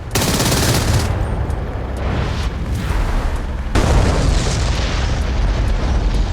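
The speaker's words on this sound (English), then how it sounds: "the distinct sound it makes when it fires its 4 cannons, which have a great rate of fire, as you can see in this footage from the simulation DCS World" Rapid, dense bursts of cannon fire from a ZSU-23-4 Shilka's four guns in DCS World, loud and sustained across the whole stretch with a heavy boom partway through.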